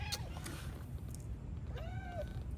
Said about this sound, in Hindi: ये हमारी बिल्लियाँ आ गई हैं क्योंकि उनको पता है हम आए हैं, तो वो खाना मांग रही हैं